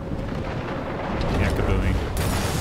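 A rumbling explosion in the video game Life is Strange, a dense, steady low roar that holds throughout and swells slightly near the middle, with no talk over it.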